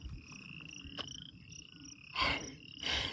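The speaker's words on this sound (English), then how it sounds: "This is where all of the frog action and singing is coming from. You can hear them." Frogs call from a full pond outdoors, a high trilling chorus with sustained piping notes and two louder bursts of croaking near the end, set against quiet background.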